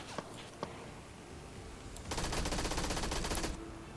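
A couple of isolated gunshots, then a sustained burst of rapid automatic fire lasting over a second, loud and crackling in PlayerUnknown's Battlegrounds.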